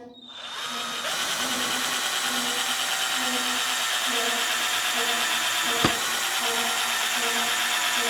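A power drill with a countersink bit spins steadily with a whirring, slightly ratcheting hum, starting after a short pause and running continuously to the end.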